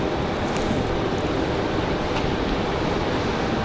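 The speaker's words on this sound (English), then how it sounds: "Wind's blowing again." Strong wind blows at an airport during a snowy day, giving a loud, steady broadband roar of gusts buffeting the microphone with no break and no talk.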